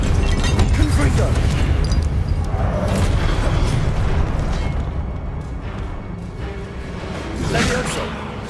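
Confringo spell explosion in a Hogwarts video game, a sustained loud booming blast with rumbling debris that swells again near the end, with no talking over it.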